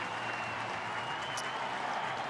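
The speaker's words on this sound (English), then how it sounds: "Standing ovation from the Manly crowd" A Manly crowd at an NRL rugby league match gives a standing ovation, steady broadband clapping and crowd noise holding evenly throughout, loud and sustained with no breaks.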